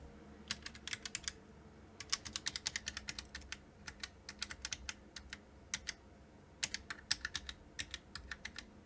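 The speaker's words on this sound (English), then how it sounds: "also I'm typing." Someone types on a custom-built mechanical keyboard in quick, uneven bursts of crisp clicks with short pauses between them, quiet and close with no talking.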